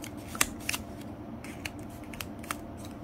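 Colored paper folded by hand for an origami basket or box, giving soft crinkles and a few sharp, crisp creasing snaps spaced through a quiet, close room.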